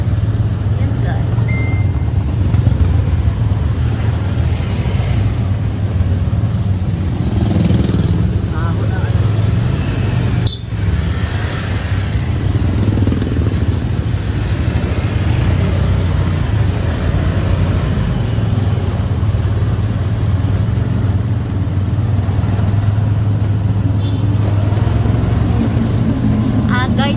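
Steady roadside traffic on a street, a continuous broad rumble of passing vehicles with engine drone throughout and no clear breaks.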